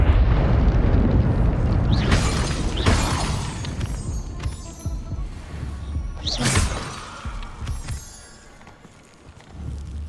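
Burst of a fire spell cast in Hogwarts Legacy, a loud whooshing crackle and booming impacts over a couple of seconds, followed by further sharp flares and shattering hits that fade toward the end.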